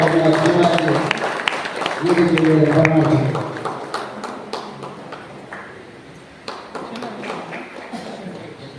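Audience clapping at a children's award ceremony held at the Sri Banashankari temple, a moderate, steady patter that rises after a voice speaks and continues alone.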